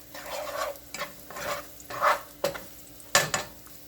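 Garlic sautés in a pan, a soft sizzle broken by repeated scraping stirs, several distinct utensil swipes spaced about half a second apart, quiet and close.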